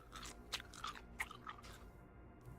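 In the video game Road to Vostok, a character chews gum with soft, wet, squishy chomps that come in an uneven rhythm, close and quiet, with no speech.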